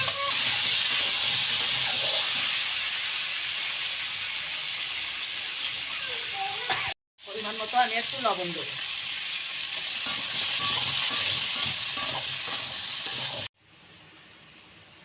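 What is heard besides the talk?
sweet pumpkin frying in oil in a wok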